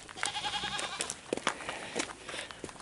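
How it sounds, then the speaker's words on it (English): A goat in Jamaica bleats in several short, quavering calls, fairly close, over a faint outdoor background with a few footsteps. "That's a beautiful goat."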